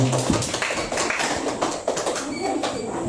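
Students in a classroom applaud a presenting group, a busy patter of overlapping hand claps that stays near and steady throughout, with light background noise mixed in.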